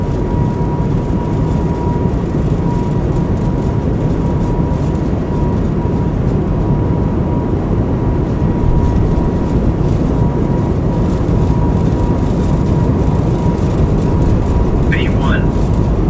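Jet engines on an Airbus A220 run at takeoff power in a flight simulator game, a loud, steady broadband roar with a faint tonal whine that holds unbroken throughout.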